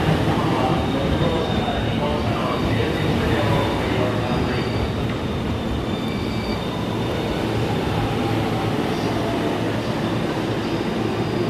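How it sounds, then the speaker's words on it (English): A JR E231-500 series commuter train pulls into platform 13 at Shinjuku station, a loud continuous rumble of wheels and motors with faint squeals, under platform noise and a passing voice. "We have an E231 500 series arriving into platform 13"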